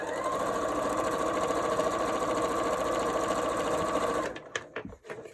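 A sewing machine stitches quilt pieces for a kaleidoscope quilt, a loud, fast, even mechanical whirr running for about four seconds before stopping, followed by a few handling clicks and rustles.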